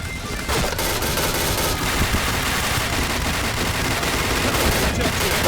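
Point Blank gunfire roars in dense continuous automatic bursts, loud and unbroken, with crashing impacts layered through the volley and a player's voice faintly mixed in.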